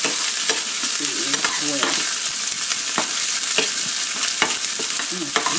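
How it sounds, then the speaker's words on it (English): Onion and garlic sauteing in a pan for Haitian bouillon, a loud, dense, continuous sizzle with intermittent stirring clicks of a utensil against the pan. "I'm going to let that fry for about a couple of seconds."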